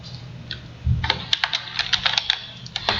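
A name is typed into Tally accounting software on a computer keyboard, with a quick, uneven run of close, crisp key clicks and no talking.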